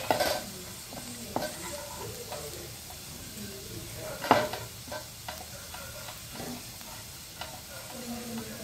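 Shallow-fried okra tipped into sizzling masala in a pan and stirred. Steady hissing sizzle is broken by sharp spatula scrapes and clanks against the metal, one especially loud knock midway.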